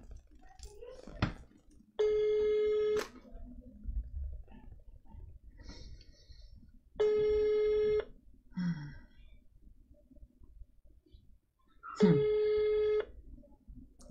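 An outgoing telephone call goes unanswered, with three evenly spaced ringback tones, each about a second long, sounding at roughly five-second intervals. Faint room noise and indistinct sounds fill the quiet gaps between them.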